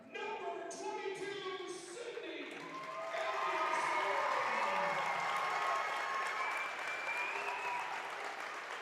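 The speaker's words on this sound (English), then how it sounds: "nice round of applause there for Sydney Anderson" A crowd at a girls' high school basketball game between Perham and Wadena-Deer Creek applauds and cheers a player introduction, the clapping swelling midway and holding steady, with a PA announcer's voice heard at the start.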